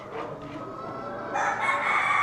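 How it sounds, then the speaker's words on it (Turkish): Background clucking at a small-animal show in Leingarten gives way to a black rooster beginning a loud crow near the end, close to the listener. "Burada siyah horoz."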